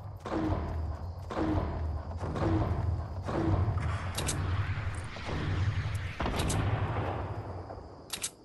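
Heavy booming explosions in the Fortnite battle royale game, a run of deep thuds repeating roughly every second, followed by sharper bursts and clicks, loud and close with no talk over them.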